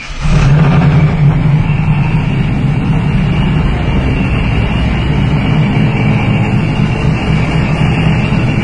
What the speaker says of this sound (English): So I'm just going to start the car real quick